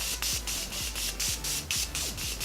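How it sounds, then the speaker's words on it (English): Repeated quick hissing bursts of a Morphe Continuous Setting Mist spray, about nine pumps in a steady rhythm, close up. "now I do setting spray"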